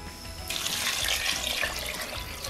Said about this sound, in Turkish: Şimdi üzerine suyunu ve tuzunu ekliyorum.